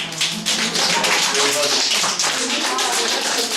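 People demonstrate health clapping meant for back pain, a rapid series of distinct, close hand claps and taps in a steady rhythm, with voices talking underneath.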